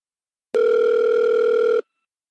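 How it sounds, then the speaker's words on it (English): A single steady electronic telephone tone for an incoming emergency call to a Seattle dispatch line, sounding once for about a second and a quarter, clear and alone, then cutting off into silence. "Another call came through at"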